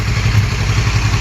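A 1981 Yamaha XS850 engine idles steadily up close after a carburetor sync, its low rumble carrying a faint uneven sputter with a small exhaust leak.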